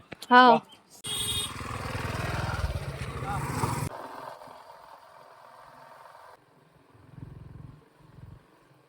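Village vehicle starting up for a ride out to a cashew grove, with a brief loud burst followed by a rough engine drone that gives way to fainter running and muffled voices.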